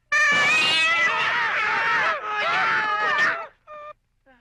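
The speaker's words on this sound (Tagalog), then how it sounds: "Nagulat ako sa pusa." A cat in a comedy film lets out loud, drawn-out yowling meows close up, two long wailing calls followed by a couple of short clipped mews, with no speech over them.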